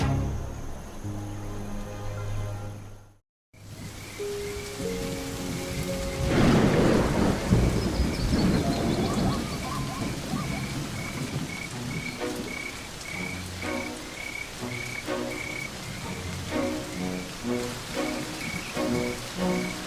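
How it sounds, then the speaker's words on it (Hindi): A steady rain falls with a rolling rumble of thunder outdoors in the wild, while frogs croak in rhythmic repeated calls over the downpour. "इस शावक ने अपने छोटे से जीवन में इससे पहले कभी बारिश नहीं देखी।"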